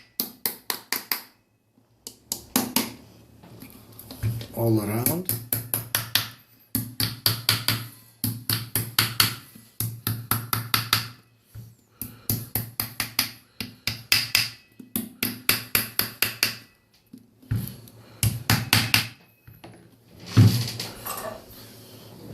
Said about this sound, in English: Now use a small hammer. Just tapping in a little bit.